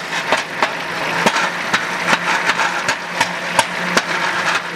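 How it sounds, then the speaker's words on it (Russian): A 2001 Nissan X-Trail engine idles steadily, with a metallic muffler shroud resonating in sharp, repeated rattling ticks at an irregular rhythm over the running engine, fairly close and moderately loud. "Резонирует кожух глушителя."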